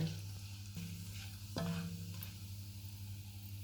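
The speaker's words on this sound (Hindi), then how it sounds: "2 दालचीनी के पीस, 3 सब्ज़ इलायची, 2 बड़ी इलायची, 6 लौंग और 1 टीस्पून ज़ीरा। इनको 30 सेकंड तक फ्राई करेंगे।" Whole spices (cinnamon pieces, green and black cardamom, cloves, black pepper and cumin seeds) fry in hot oil for a chicken chana pulao, a quiet, low sizzle with a few sharp clicks from stirring.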